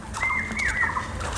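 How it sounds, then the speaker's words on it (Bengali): Birds calling near a forest temple surrounded by jungle and gardens, a short clear whistled call repeated a few times over soft background ambience. "পাখির আওয়াজটাও শুনে নিন।"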